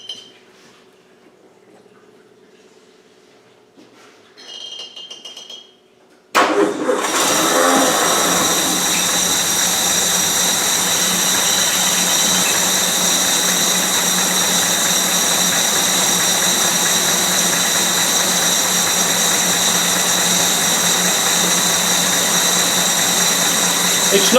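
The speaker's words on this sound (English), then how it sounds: "It's noisy because we ain't got an air filter on it." An engine on a serviced Land Rover 109 fires up after a quiet stretch of light clinks, then runs loud and steady without an air filter, a harsh close roar holding to the end.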